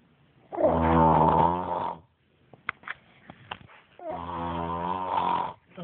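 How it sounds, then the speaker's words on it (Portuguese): A sleeping man snores loudly and close by in two long, rasping breaths separated by a pause filled with small clicks and shuffles, with no talking. "dá pra dormir com esse ronco?"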